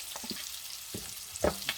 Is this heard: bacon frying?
yes